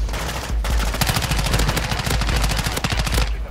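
Loud, rapid automatic gunfire from the Call of Duty DMZ video game, fired in dense bursts for about three seconds with a short gap early on.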